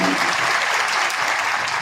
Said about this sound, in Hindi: बोले तालियों की गड़गड़ाहट से उनका स्वागत करेंगे